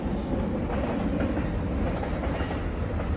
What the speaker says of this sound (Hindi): ट्रेन जा रही